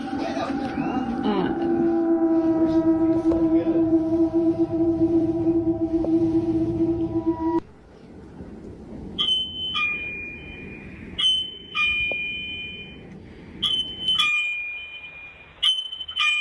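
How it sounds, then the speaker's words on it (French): A doorbell camera alarm in an upstairs room sounds a loud, steady electronic tone, then switches to a series of short, repeated high beeps in bursts with quiet gaps between. "the doorbell in my kids' room upstairs is going off"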